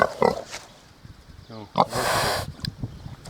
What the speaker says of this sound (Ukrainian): Свиня з калюжі вилізла.